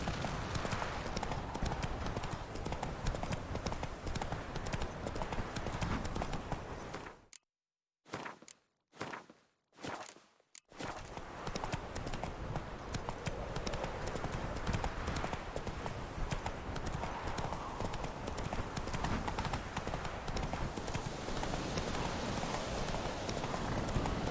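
Horse hooves clip-clop in The Witcher 3: Wild Hunt, a steady rhythmic trot that carries on loudly and continuously, broken by a brief silent gap partway through before resuming.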